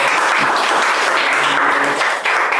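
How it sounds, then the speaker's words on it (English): A lecture audience claps steadily in a dense, continuous round of applause, fairly loud and without voices. "let's give a big round of applause"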